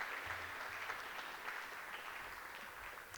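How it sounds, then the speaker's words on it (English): Audience applause for event sponsors at a conference gathering, a steady wash of clapping hands holding throughout without a break. "if I could just get from you all a round of applause, not just for our gold sponsors, but for all of our sponsors"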